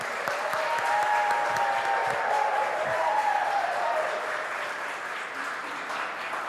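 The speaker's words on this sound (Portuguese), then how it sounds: "é cultural a gente também receber essas pessoas com uma salva de palmas" A studio audience gives a round of applause to welcoming guests, continuous even clapping with some crowd murmur and a faint tonal sound running through the middle.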